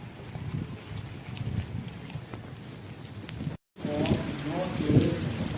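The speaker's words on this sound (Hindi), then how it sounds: "बहुत ही तेज़ बारिश का समा है।" Steady heavy rain hisses throughout in a village with a brief dropout, then a voice speaks over the continuing downpour.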